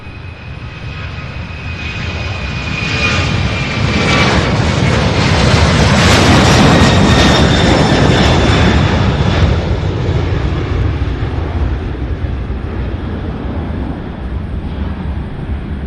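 Jet airliner engines roar at Louisville's SDF airport as a plane taxis, a loud sustained rumble that swells to a peak midway and then slowly eases, with a steady whine riding over the roar and wind buffeting the microphone.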